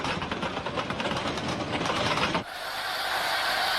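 Pacific 231 YP class steam locomotive, a 99-tonne narrow-gauge engine nearly 20 metres long, rumbling past in a dense, loud rolling clatter that abruptly thins into a steadier high hiss partway through.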